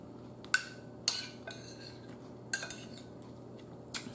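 A metal fork taps and clinks against a plate of cheesy grits, a handful of sharp, close clinks spaced irregularly over a quiet background.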